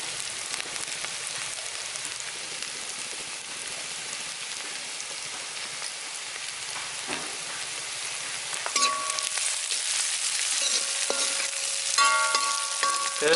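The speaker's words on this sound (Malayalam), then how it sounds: "ഇപ്പോൾ സവോള ഏകദേശം ഒന്ന് വഴുതി വന്നിട്ടുണ്ട്, നന്നായിട്ട് വെന്ത് വന്നിട്ടുണ്ട്." Onions sautéing in a pan for a Kerala white yam curry give off a steady, even sizzle throughout, with a few brief clinks of a utensil near the end.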